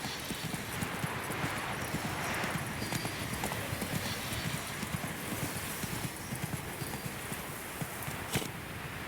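A horse galloping in the video game Witcher 3: Wild Hunt, a dense, continuous run of hoofbeats over a broad wash of outdoor ambience, steady and close for the whole stretch.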